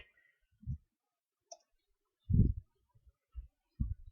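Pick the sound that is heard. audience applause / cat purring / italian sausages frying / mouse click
mouse click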